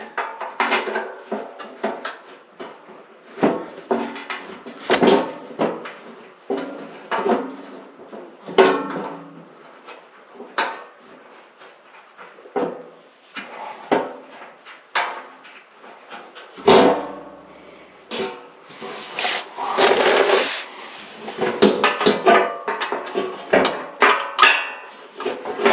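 Metal clanks and scrapes from bolts being threaded in and snugged down with hand tools on a Toyota Tacoma, in irregular close bursts with quiet gaps and no talking.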